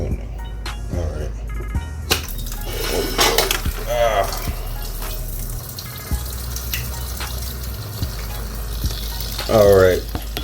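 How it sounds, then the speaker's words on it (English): Coolant gushing out of a KX450 motocross bike's radiator drain during a coolant change, a steady close watery splashing and fizzing rush under occasional talk, with a brief louder burst near the end. "We got a gusher."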